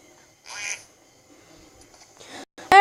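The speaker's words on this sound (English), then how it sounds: "It makes a little duck noise." A short duck quack plays as a game sound effect in the mobile game Monkey Ropes, two brief bursts set apart by a faint gap, the second louder and sharper.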